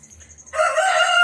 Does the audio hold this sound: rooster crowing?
yes